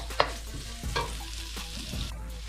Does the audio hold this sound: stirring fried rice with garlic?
yes